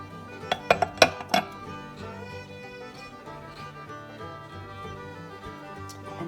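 A ceramic lid settles onto an old teapot with four quick clinks early on, followed by a quiet room tone that lingers without speech.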